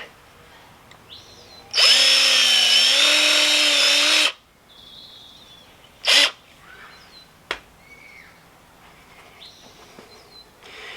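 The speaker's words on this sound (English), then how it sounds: "the hole here in this piece of plastic, we're also going to enlarge a little bit" A power drill enlarges a hole in a plastic part of a Stihl MS170 chainsaw, running loud and steady for about two seconds, followed by a few short, fainter tool noises.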